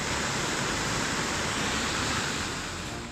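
Roaring floodwater surging through Kotdwar, Uttarakhand, during heavy monsoon rain, a dense, continuous broadband rush that stays loud and steady throughout with no voices, easing only slightly at the very end.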